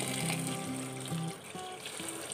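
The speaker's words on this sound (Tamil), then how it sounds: "இத ஊற வைக்கிறதுக்கு தேவையான அளவு தண்ணி சேர்த்துக்கங்க" Water poured over about 250 grams of washed cotton seeds to soak them in a kitchen, a steady close splashing and gushing wash with faint tonal hum running underneath throughout.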